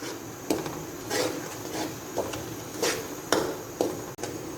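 Semolina is stirred in hot ghee with a spoon over low heat, producing intermittent scraping taps and rubs against the pan, about eight soft strokes at an uneven rhythm, close and fairly quiet.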